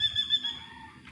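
Chickens at a Malaysian homestay in the morning, with a brief, faint clucking call and a thin tonal trill over low background murmur.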